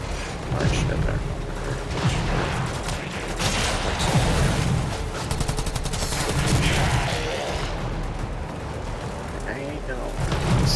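Burst-fire weapon shots from the video game Warframe, dense mechanical clatter and repeated bursts over steady game ambience throughout, fairly loud and busy.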